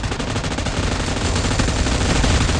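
Dense, continuous automatic gunfire from the PUBG Mobile video game, loud and unbroken, with no speech over it.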